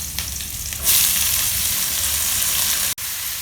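Spinach sizzles loudly in a hot pan as it goes in over softened onions, the frying hiss swelling and then crackling steadily, with a brief dropout near the end.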